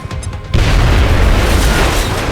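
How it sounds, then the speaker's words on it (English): A grenade blast in XCOM: Enemy Unknown on PC, a sudden heavy boom after a short quiet lead-in, then a loud rumbling roar that fills the rest of the moment. "Just throw a random grenade, like, over here and see if that's where he went."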